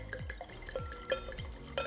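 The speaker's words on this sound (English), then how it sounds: "Let's see how skilled you are at the pouring." Wine pours into a glass in a few short glugging bursts, close and clear, with brief pauses between the splashy gulps.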